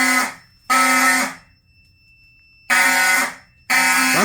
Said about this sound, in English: we got an alarm